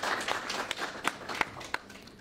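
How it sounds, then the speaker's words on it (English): Sparse, faint applause at an essay writing prize giving ceremony, a handful of distinct claps scattered over a couple of seconds rather than a full ovation. "Another round of applause for him."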